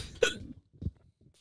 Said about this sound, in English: How's your hiccups? Terrible.